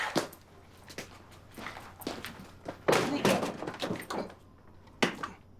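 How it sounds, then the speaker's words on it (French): Someone bumping into a door indoors: a string of dull thunks and knocks against the door, spread irregularly and fairly faint, with a heavier bump near the middle. "Tu viens-tu d'essayer de passer au travers de la porte?"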